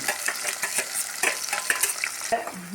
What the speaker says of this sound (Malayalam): ഇതിനെ നമുക്ക് ഇതിലോട്ട് മൂപ്പിച്ചെടുക്കാം